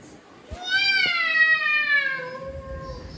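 A domestic cat gives one long, drawn-out meow that rises and then slowly falls, close and clear, preceded by a brief knock and followed by low background rumble.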